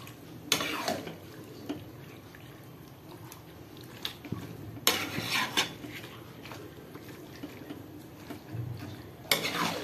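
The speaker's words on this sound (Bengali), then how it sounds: "ভালো করে মশলাটা মিশিয়ে নিন।" Mutton being stirred with ginger-garlic paste and spice masala in a pan, heard as close metal scrapes and clinks of a spoon against the pan in scattered bursts, with a soft low sizzle underneath and no talking.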